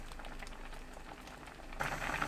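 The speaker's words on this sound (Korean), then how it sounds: "끓으면 약불로 낮추고 10분 더 끓입니다." Soup with tofu bubbling in a covered pot on the stove, a quiet steady simmer of small pops and gurgles that swells louder near the end.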